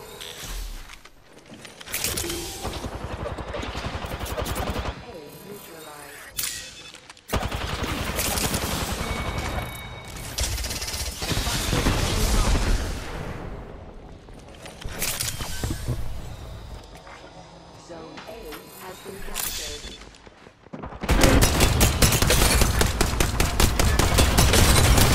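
Gunfire in Apex Legends, with long bursts of automatic shots broken by short gaps and then a heavy final volley, loud and close, with faint footsteps and mechanical clicks between bursts.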